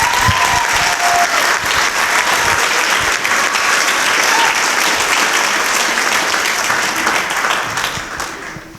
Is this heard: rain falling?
no